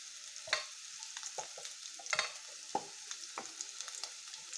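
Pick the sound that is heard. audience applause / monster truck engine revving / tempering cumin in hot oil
tempering cumin in hot oil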